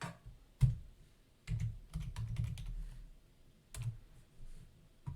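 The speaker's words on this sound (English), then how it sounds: "then I'll do a Control-C on the keyboard" Someone types on a computer keyboard in a few uneven bursts of close, crisp key clicks with short pauses between, including a quick key combination for copying, and no voices.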